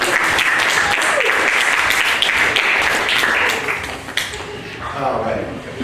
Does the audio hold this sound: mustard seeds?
no